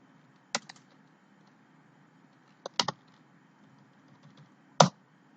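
A computer keyboard tapped in a few sparse clusters of sharp clicks against a quiet room, fairly close and soft, with no speech.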